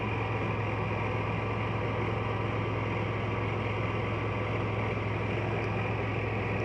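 A Chevrolet Blazer fitted with a Wynjammer supercharger idles with a steady, even low hum and constant whine, loud and unchanging from start to finish with no talking.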